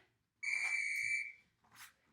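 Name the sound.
whistle blown during a workout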